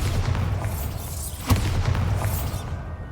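A Bombarda spell blast in the Hogwarts Legacy video game, heard as a low muffled boom with rumbling debris over a constant low game ambience.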